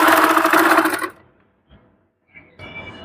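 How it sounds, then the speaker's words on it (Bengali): A sewing machine hums loudly and continuously while stitching the leg hem of a small child's three-quarter pants, then stops abruptly, leaving near silence with a few faint clicks of handling. "পায়ের মুহুরিতে আমরা সেলাই দিয়ে জয়েন দিয়ে নেব।"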